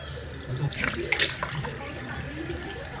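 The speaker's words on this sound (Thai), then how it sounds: "แล้วเราก็ใช้น้ำ พรมแบบนี้" Water splashes and trickles close by as it is sprinkled onto the face during face washing, a brief wet patter over soft background noise.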